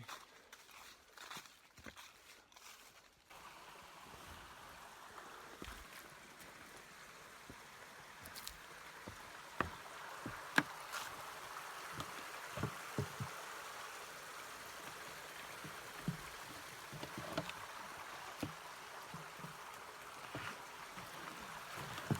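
The Chattooga River flows on a foothills trail loop, a steady broad rushing wash heard from nearby, with scattered footsteps and small handling knocks on top and no talk.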